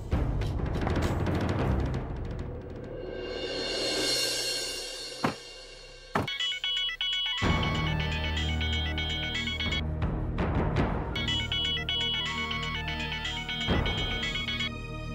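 A phone ringtone plays, a melodic electronic tune that starts, breaks off briefly and resumes, ringing clearly and fairly loud with no talking over it.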